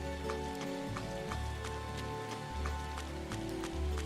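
Steady rain patters across a surface in the video game Trails of Cold Steel, a continuous wash of drops under looping game music, with no voices.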